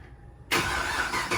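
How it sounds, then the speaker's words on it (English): A Chevrolet Camaro ZL1, fifth generation, cold-starts with a sudden loud burst at about half a second, then holds a steady, dense engine roar close by with no talk. "Ooh, cold start."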